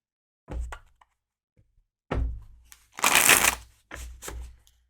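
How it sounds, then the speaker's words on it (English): Tarot cards are handled and shuffled close by, with soft thumps and a riffling burst between quiet gaps. "let's get shuffled and see what the cards have for you"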